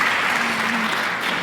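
A conference audience at a session on preventing caregiver exhaustion breaks into full, sustained applause, a thick wash of many hands clapping close by with no pauses.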